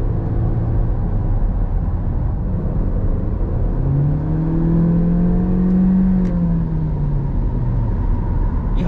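The engine of a new Honda Civic with a CVT revs up on the road over a steady, loud cabin drone. Its tone climbs smoothly and then eases back, with no talking.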